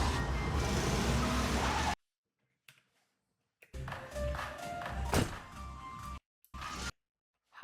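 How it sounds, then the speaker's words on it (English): A cartoon car engine revs loudly for a couple of seconds, cuts out, then roars and rattles again in bursts as the car drives off, with short gaps of silence. "How did the car start when she's still here?"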